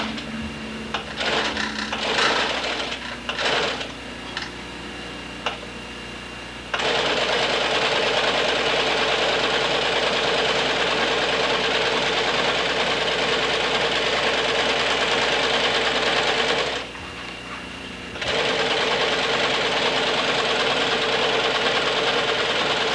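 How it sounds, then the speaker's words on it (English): A sewing machine stitches a leather boot vamp: a few short stop-start bursts, then two long, steady runs of fast mechanical whirring, close and loud, separated by a brief pause. "I'll sew one of these on here and give you an idea of what we've done."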